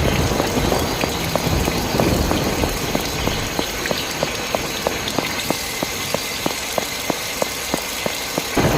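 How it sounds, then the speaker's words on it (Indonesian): Steady rain in the anime-style life sim Sakura School Simulator, a continuous broadband hiss with regular soft drip-like ticks throughout, no talking over it. "Hujan, ayo pergi."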